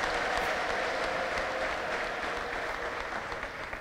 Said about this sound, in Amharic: ከዚህ በላይ ለጌታ ከፍ ያለ እልልታ ጭብጨባ ካላችሁ አጨብጭቡ